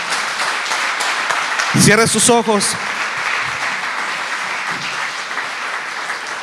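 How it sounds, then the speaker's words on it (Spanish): A church congregation applauds during an Easter resurrection sermon, steady massed clapping that runs throughout, with a voice briefly speaking over it partway through. "Un aplauso al Señor."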